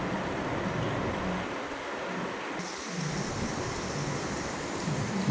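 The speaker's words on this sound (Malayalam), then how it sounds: "പുറത്ത് നല്ല മഴയാ." Heavy rain falls outside in a dense, steady wash of noise with a low rumble underneath, unbroken for the whole stretch.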